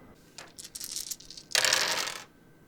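Narrative dice for a tabletop roleplaying game rattle and clatter across a table in two quick bursts, the second louder and longer, with no talking over them.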